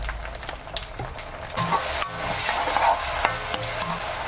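Chopped tomato with a pinch of salt sizzles and crackles in a frying pan while being stirred for an Andhra-style puffed rice snack, with steady close frying noise and scattered clinks.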